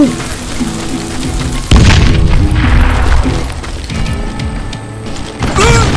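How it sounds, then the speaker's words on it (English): A loud boom erupts as dynamite goes off in a shooting video game, a sudden burst over busy mechanical game sounds and music, with a second smaller blast near the end. "Dynamite!"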